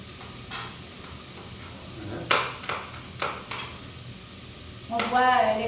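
Onion, garlic and spices sizzle in a pan while a utensil stirs and scrapes, with several sharp clinks and scrapes against the pan and a louder frying burst near the end.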